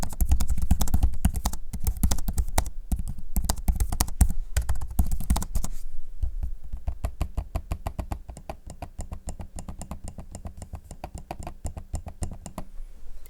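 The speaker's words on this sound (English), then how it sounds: "here's a quick audio sample of the keyboard and trackpad in use" Typing on the keyboard and trackpad of an MSI Creator 15 OLED laptop: a steady stream of quick, close key clicks, dense and louder at first, then lighter and more spaced, with no talking.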